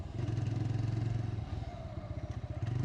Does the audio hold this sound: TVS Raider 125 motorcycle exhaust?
yes